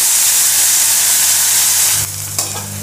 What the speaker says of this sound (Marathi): उकळी आलेली आहे.